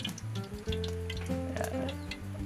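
Mixed seafood sautéing in cooking oil over a farm cooking fire, a busy crackling sizzle with tonal background hum and clatter, steady and close throughout.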